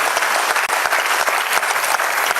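A crowd applauds at a patriotic Hindi poetry recital for Independence Day, a dense, steady wash of many hands clapping at close range, with no voices over it.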